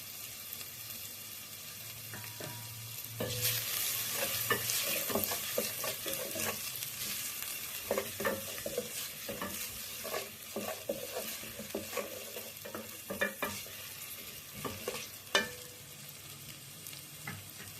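Chopped onions and coriander sauté with salt in a pan for Kumbakonam kadapa, a quiet, steady sizzle broken by frequent stirring scrapes and clacks of a spoon, with no talking.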